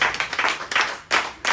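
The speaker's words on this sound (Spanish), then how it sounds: "Démosle un aplauso al Señor" A church congregation bursts into clapping in praise, a close, loud burst of many hands with uneven surges and brief dips, continuing throughout without speech.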